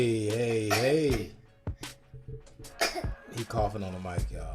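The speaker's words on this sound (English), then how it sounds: "He coughing on the mic, y'all." A man coughs loudly into a podcast microphone, several harsh close coughs and throat clearing, mixed with speech before and after.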